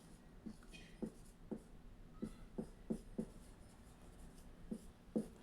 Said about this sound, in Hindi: चलिए यहाँ पे लिखते हैं पास्ट टेंस।